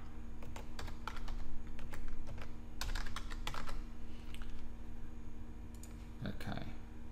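A password being typed on a computer keyboard while setting up a Google account: bursts of quick, close key clicks with short pauses, steady and fairly quiet.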